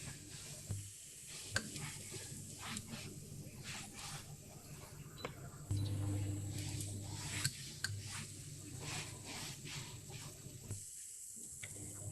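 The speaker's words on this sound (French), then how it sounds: "Je vais les faire bouger un peu dans ma poêle, histoire qu'ils prennent bien tout le beurre" Croque bread frying in butter in a pan and being shifted around, a continuous close sizzle and hiss with soft scraping and sliding sounds throughout.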